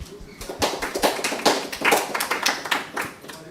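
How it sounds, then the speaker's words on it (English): Conference audience at JuliaCon 2024 gives a brief round of applause, a burst of many hands clapping at close range for a few seconds, no voices. "Round of applause."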